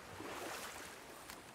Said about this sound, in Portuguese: Uau, nunca vi uma cachoeira tão grande.